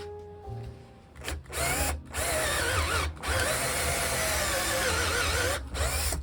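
A power drill fitted with a 1/2 inch bit bores into wood in loud, sustained bursts, its whine rising and falling as the bit bites, broken by brief pauses between pushes.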